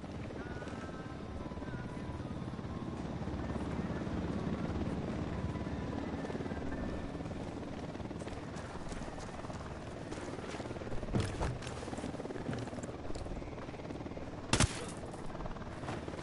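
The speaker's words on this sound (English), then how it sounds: "that chopper's so annoying" A helicopter in the video game Ghost Recon Wildlands makes a steady rotor roar that fills the scene, with a few sharp gunshots cracking through near the end.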